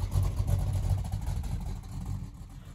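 A car engine running cold idles nearby with a steady low rumble and slight uneven pulsing, fairly quiet and alone.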